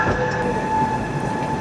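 Coromandel Express departing Rajahmundry railway station, a steady loud rumble of rolling wagons with metallic wheel whine and a sustained tonal squeal, continuous and close throughout.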